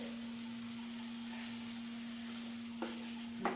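Coconut and jaggery filling for sweet coconut poli is stirred in a pan, a faint soft sizzle and scrape over a steady low hum, with a couple of sharper spoon scrapes near the end.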